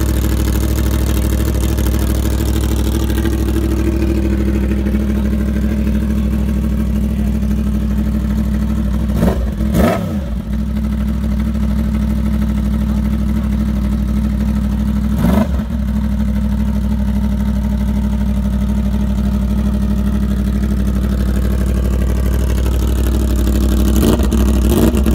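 A car fitted with a new Austin Racing exhaust idles with a steady deep drone, broken by a few short, sharp throttle blips, loud and close throughout.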